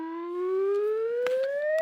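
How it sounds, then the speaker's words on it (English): A team's buzzer sounds on a televised comedy news quiz show, one sustained electronic tone that slowly rises in pitch for almost two seconds, loud and unbroken, with a few faint clicks underneath. "Fingers on buzzers, teams."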